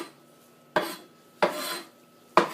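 A knife chops three separate times through rosemary leaves on a cutting board, each stroke a crisp, close scraping knock with quiet gaps between.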